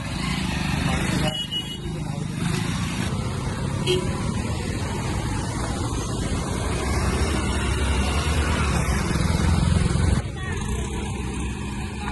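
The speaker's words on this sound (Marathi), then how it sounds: "आमची गाडी टाकली आता फेरीमध्ये आणि आता ती नदी क्रॉस करतोय" Government ferry boat crossing a river in Karnataka with a car aboard: a continuous rumbling engine drone with uneven mechanical clatter, steady and moderately loud for the whole stretch.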